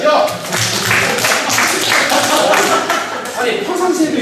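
Audience clapping at a talk, a burst of many hands striking unevenly with sharp taps and thuds, loud and close, with some voices mixed in.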